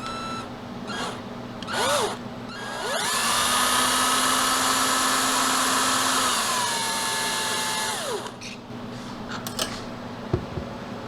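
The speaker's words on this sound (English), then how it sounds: "Oh, I should get a drill in there." A power drill whirs up, holds a steady high whine for several seconds, then winds down, with a brief shorter burst before it and faint clatter afterward.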